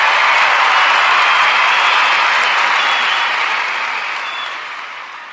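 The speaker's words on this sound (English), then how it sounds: "Round of applause to my brother." A crowd gives a round of applause for a brother's 55th birthday, a loud dense burst of clapping that holds steady and then slowly tapers off, with no talk over it.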